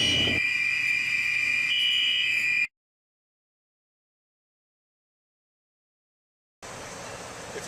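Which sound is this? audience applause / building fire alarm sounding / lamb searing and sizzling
building fire alarm sounding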